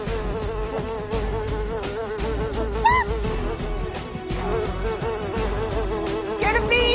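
A bee buzzes nearby outdoors, a continuous droning hum that wavers in pitch as it moves, steady and fairly close for the whole stretch with no talk.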